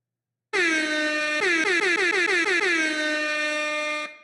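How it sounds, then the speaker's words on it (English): A loud air horn sound effect fired from a Rodecaster soundboard button blares alone: one long blast, then a rapid burst of stuttering repeats, then a sustained tone that cuts off. "Whenever you hear somebody with that air horn, it's so lame, dude."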